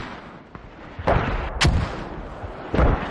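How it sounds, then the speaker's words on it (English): Mortar shells crash down on a capture point in a multiplayer war video game, several heavy booming impacts spaced about a second apart, loud and close over a rumbling battlefield background. "So BOB mortars hitting on the cap directly now"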